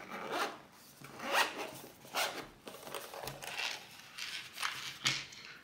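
A zipper on a microphone kit case is drawn in several short, raspy pulls with brief pauses between them, close and fairly quiet against a still background.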